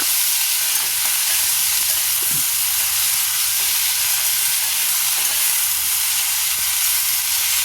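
Green plantain stir-fry being stirred in a pan, a steady hiss of frying and sizzling with faint scraping, continuous and close without any voices.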